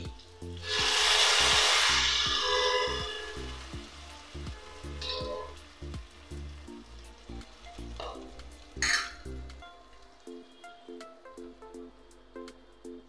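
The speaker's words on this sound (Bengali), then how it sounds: "মশলাটা আমি দিয়ে দিচ্ছি।" Spice paste made from green chilli and turmeric hits a hot pan and sizzles loudly, followed by repeated stirring and scraping with a wooden spoon as the hiss gradually fades. The sound is close and there is no talk.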